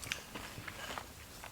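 Crunchy New Zealand snack chips are bitten and chewed up close, a rapid series of crisp cracks and crackles, fairly faint against a steady background hiss.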